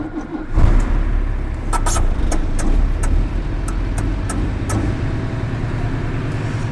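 A heavy Unimog 435 U1300L diesel truck engine rumbles low and steady at idle, with sharp clanks and knocks over the top, no talking.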